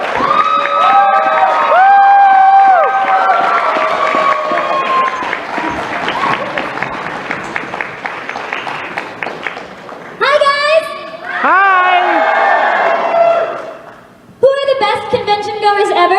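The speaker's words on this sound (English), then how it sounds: "let's clap for them and be excited that they're here" An audience at an anime convention claps and cheers for guests called onto the stage; children's shouts and excited voices rise over the clapping, which comes in bursts with brief pauses.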